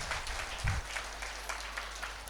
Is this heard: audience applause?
yes